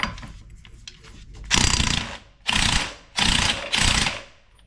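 An electric impact wrench on a 30 mm socket works an axle nut on a Honda Rubicon/Foreman ATV, firing in four loud, rattling bursts of about half a second to a second each with short pauses between.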